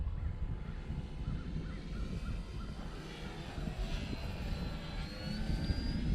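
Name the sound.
Clipped Wing Piper Cub airplane engine coming in to land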